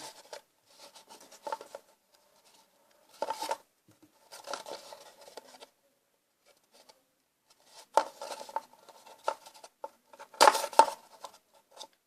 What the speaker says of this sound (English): So let's cut out holes for our eyes before anything.